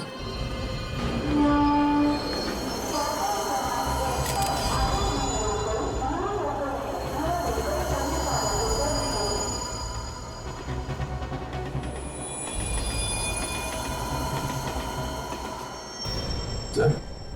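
A train passes in the Indian TV crime drama CID, giving a steady low rumble and clatter that swells and eases over dramatic background music.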